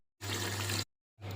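Water is poured into a pot for a village-style chicken biryani made with 1 kg of chicken and 1 kg of rice, in two short close splashing bursts with a low hum beneath them.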